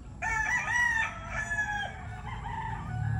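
A rooster crows up close at a chicken farm, one drawn-out call standing out over a low background of other fowl.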